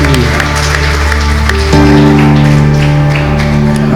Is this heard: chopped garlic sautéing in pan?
no